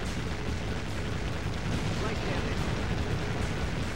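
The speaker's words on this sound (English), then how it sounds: "These are realistic levels of cannon fire from a Japanese battleship." Japanese battleship cannon fire in the naval game World of Warships, a dense continuous roar of overlapping booms and rumbling blasts, loud and unbroken throughout with no distinct pauses.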